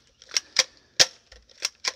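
A Hydro Strike gel blaster fires gel beads in sharp, close snaps, about six shots at uneven intervals over two seconds, the blaster misfiring and sometimes sending two to four beads at once.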